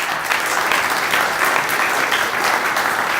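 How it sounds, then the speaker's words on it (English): An audience gives a big round of applause after a startup funding pitch; loud, dense, continuous clapping from a crowd, close and steady throughout. "Big round of applause."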